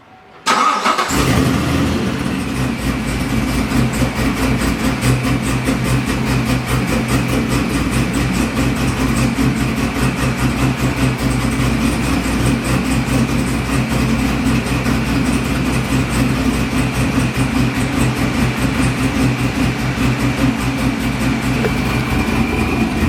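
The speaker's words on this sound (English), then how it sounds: "Y'all can hear that blower whine?" A supercharged Corvette engine starts and settles into a loud, steady, slightly rough idle with a rumble and a sustained high supercharger blower whine above it.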